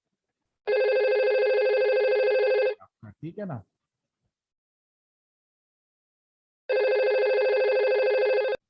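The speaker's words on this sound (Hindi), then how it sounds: "घंटी बजती है, बज सकती है घंटी।" An electronic telephone bell rings loudly in a long burst, stops for a brief spoken remark, then rings again after a pause.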